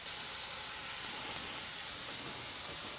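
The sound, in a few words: bacon slices frying in a pan on medium-high heat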